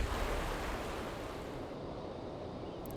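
Water spraying from a shower in the adventure game Syberia, a steady broadband hiss that is fairly loud and continuous and fades slightly toward the end, heard alone without speech.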